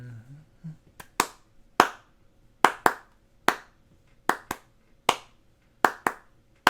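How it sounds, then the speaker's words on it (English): Sharp, dry hand claps are recorded for a doo-wop clap track, about a dozen of them landing close and distinct in a loose, steady rhythm, with a little faint noise before the first. "recording the clap track"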